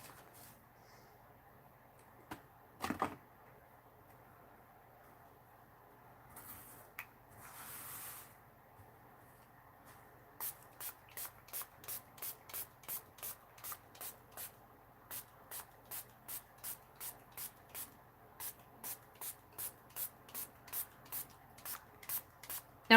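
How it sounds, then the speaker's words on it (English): Walnut ink sprayed from a spray bottle for art journal work: a quick burst early on, then a long run of regular, evenly spaced pumping sprays, close and fairly soft, with no talking. "I put my sprayer away here."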